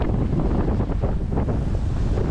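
Strong wind at sea buffets loudly and continuously while sailing single-handed between squalls, gusting against the microphone with a broad, rough roar and the wash of waves beneath.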